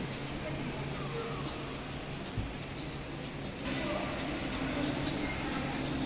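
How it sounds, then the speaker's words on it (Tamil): A kids' ride-on train runs inside a shopping mall on Erode's highway road, a continuous low rumble with light clatter that grows slightly louder partway through, with no talk over it. "இது இந்த கிட்ஸ்க்கு ட்ரெயின்"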